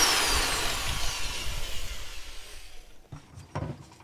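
A high-pitched power drill whines loudly drilling through a rusted suspension nut on a Mercedes W126, then winds down and stops, followed by a couple of short knocks of metal.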